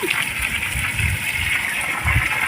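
Water is poured onto soil in a garden grow bag, making a steady close splashing gush that runs throughout with slight surges.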